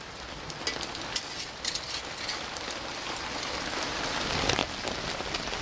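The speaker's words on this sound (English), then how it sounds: "Rain is pretty cool though." Rain drums on an outdoor tarp, a continuous close patter with scattered louder drops and spatters, and nobody speaks.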